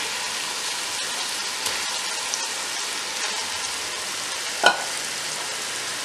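Chicken goes into a pan of fried onion masala. It gives a steady, moderate sizzle and frying hiss throughout, with one brief clatter near the end.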